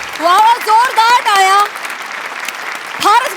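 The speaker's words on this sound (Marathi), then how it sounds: "जोरदार टाळ्या." Audience applause at a Marathi comedy show, a broad clapping wash running under loud voices for the first couple of seconds, then fading to a lower murmur before a voice returns near the end.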